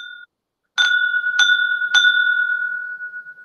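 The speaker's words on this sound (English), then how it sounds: "That's the drink bell." Three bright, clear dings from a drink bell sound in quick succession, each ringing out with a long, sustained metallic tone that fades slowly in an otherwise quiet room.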